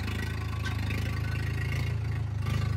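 A tractor engine runs at a steady pace during wheat sowing, giving a loud, unbroken low rumble with a constant throb that stays close the whole time.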